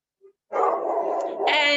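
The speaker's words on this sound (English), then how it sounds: "Sorry if my dogs are loud." Pet dogs at home make a loud, close, drawn-out barking howl after a short silence and a tiny yip, rising sharply in its final stretch.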